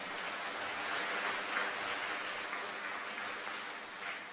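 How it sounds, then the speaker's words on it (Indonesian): A university professorship inauguration audience claps for three new professors, a soft, even wash of applause that stays fairly distant and sounds somewhat like rain. "Mohon tepuk tangan untuk ketiganya"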